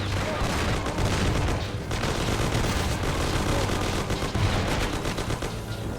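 Shootout gunfire in the Mafia video game: dense bursts of automatic fire and rapid single shots crackling continuously at close range, loud and layered, with no pauses between volleys.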